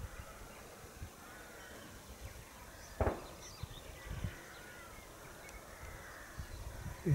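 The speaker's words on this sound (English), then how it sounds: "lots of crows in the background, over in those trees, which are quite a way off" A few faint crow caws carry from distant trees over quiet outdoor riverside ambience with occasional light rustles.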